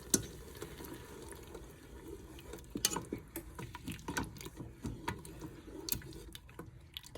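Coconut milk being stirred into paprika-spiced food in a Ninja Foodi cooker, with soft wet squishing, scraping and light taps from a spoon, fairly quiet and close, with no talk.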